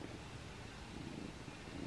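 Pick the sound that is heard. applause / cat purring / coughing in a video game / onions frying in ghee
cat purring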